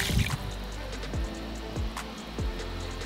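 Holi colour powder poured into a bucket of water, giving soft watery drips and a few sliding plops over a steady low background hum, close and moderately loud.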